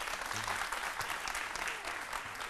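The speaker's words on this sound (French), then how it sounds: "Allez vous rasseoir et applaudissez très fort pour elles." Studio audience applauding loudly and steadily on a midday television show in Côte d'Ivoire, a dense clatter of clapping filling the whole moment with light murmuring underneath.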